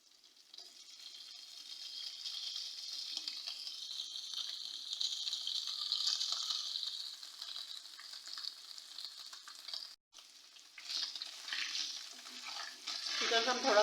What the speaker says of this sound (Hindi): चिकन को हम थोड़ा सा फ्राई कर लेती हूँ।